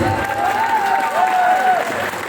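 A wrestling show crowd applauds steadily and loudly throughout, dense clapping with cheering and a whistling tone over it.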